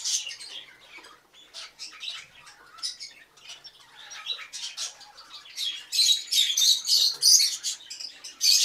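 A parrot chick stuck in its shell chirps while being helped out of the egg at a parrot breeding facility. Thin, high, near peeps come in irregular bursts and grow louder and busier toward the end.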